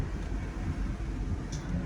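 A tuned 2002 GMC Yukon 4WD with a K&N intake sits idling, a steady low rumble held constant throughout without revving or speech.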